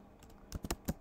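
Typing on a computer keyboard while entering commands in an Ubuntu Linux terminal: after a quiet start, about five crisp keystrokes land in an uneven rhythm. They are close and clear, with no talking.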